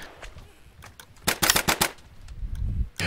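Rapid bursts of gunfire in the video game Of Guards and Thieves, a tight cluster of loud sharp shots in the middle with a few fainter pops around it.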